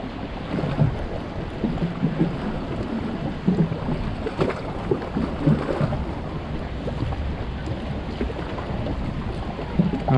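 Steady wind buffeting the microphone outdoors beside a pond, with soft lapping waves and no voices.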